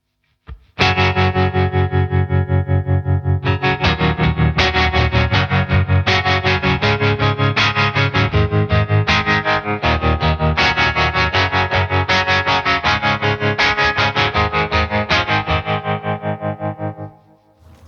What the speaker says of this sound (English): You can get all sorts of cool sounds with this, choppy in terms of putting the mix all the way up.